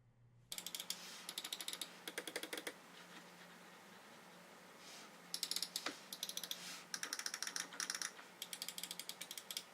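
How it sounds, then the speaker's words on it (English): Quick bursts of crisp, close, tactile ErgoSlider Plus mouse button clicks, rapid clusters separated by short pauses, over a faint steady hum. "The clicks of the mouse are very tactile and responsive"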